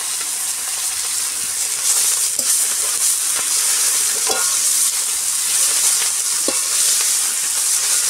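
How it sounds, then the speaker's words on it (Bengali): Bathua greens fry in a pan with a loud, continuous hiss and sizzle, broken by occasional scraping stirs of a spoon. No voices are heard. "এখন বতুয়া শাকগুলোকে ভাজবো, ভাজাটা বসায় দিলাম।"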